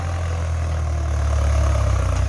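Old Ford farm tractor engine idles with a low, steady diesel chug, close and continuous for a couple of seconds, with no talk.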